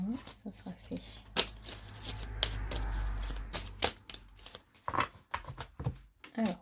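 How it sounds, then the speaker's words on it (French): Tarot cards are shuffled by hand in a quick series of close, crisp riffles and slaps, with someone speaking softly over the shuffling. "je bats les cartes"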